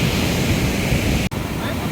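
Continuous roar of sea waves breaking on a beach, loud and broad with wind noise, briefly cut by a short dropout.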